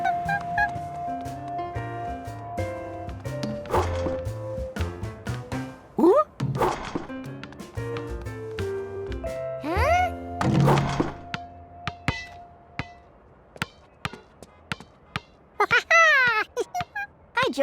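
A basketball thumps and bounces in a cartoon scene, each hit a short dull thud that cuts through a busy bed of music, with brief bits of voice here and there.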